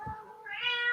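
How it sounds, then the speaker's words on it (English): A cat gives a single short, rising meow, fairly faint and close, with no talk over it. "I think your cat wants to get on the pitch as well."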